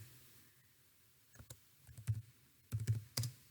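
A Java import statement being typed on a computer keyboard, heard as a quiet, close burst of irregular key clicks clustered in short groups over a low background hum.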